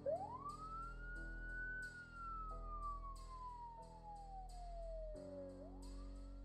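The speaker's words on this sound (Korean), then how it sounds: "경찰차의 사이렌 소리가" A distant police car siren wails in a long rising and falling sweep, then starts climbing again, over a steady low droning background.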